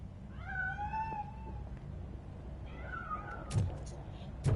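A cat in the video game RoboCop: Rogue City gives two drawn-out meows, the second following after a short pause, faint and slightly distant over a low background hum, with brief clicks near the end.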